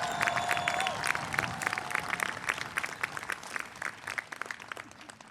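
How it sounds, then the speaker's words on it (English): Sustained applause from a large commencement crowd honoring business and engineering graduates, dense and steady throughout, with a faint background voice and a brief whistle-like tone early on. "Give yourself a big round of applause."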